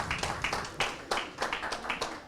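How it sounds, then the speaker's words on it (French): Audience at a small conference on autism applauds with close, uneven claps that rise and fall in loose bursts. "On peut les applaudir"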